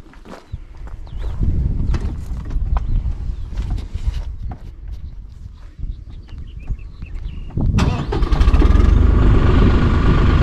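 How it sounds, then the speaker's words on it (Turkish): A tractor engine starting and running at a water well: rough, uneven chugging and clattering that swells into a louder, steadier roar toward the end. "Bin oğlum çalıştı traktörü."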